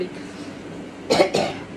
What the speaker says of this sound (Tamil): இருமல் தொண்டை கொஞ்சம் கட்டி போடுது